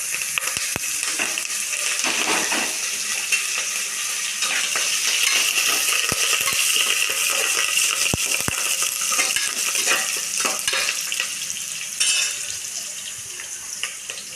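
Onions with mustard seeds frying in oil as curry leaves go in for an intestine curry, giving a steady, close sizzle with a few sharp clinks and stirring scrapes, no talking.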